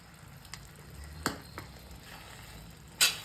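A spoon of homemade ghee sizzles in a pan while ash gourd halwa is being made, giving a faint, steady frying hiss broken by a few sharp clicks and a louder crackle near the end.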